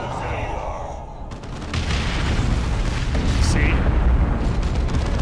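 Rocket launcher blasts from the real-time strategy game Dawn of War II land as deep rumbling booms that swell and hold through the second half, under a continuous battle din, with someone briefly speaking over it.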